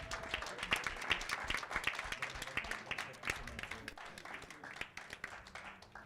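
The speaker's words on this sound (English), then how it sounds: "let us please give ourselves a big round of applause" A summit audience applauds itself after receiving certificates, with quiet, fairly distant clapping from a modest crowd, uneven and pulsing, with separate claps standing out and a faint murmur underneath.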